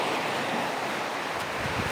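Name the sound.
river water flowing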